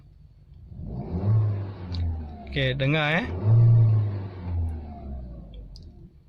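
A Peugeot 3008 SUV (2020) engine revved in normal gear, rising and falling in several swells with a low rumbling drone, while someone talks over it.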